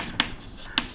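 Two short chalk or pen strokes during a physics lesson on electric charges, quiet and close, about half a second apart.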